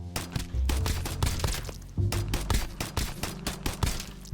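Rapid bursts of gunfire at a shooting practice range in the video game Escape From Duckov, sharp repeated shots in quick volleys, fairly close and punchy with no talk.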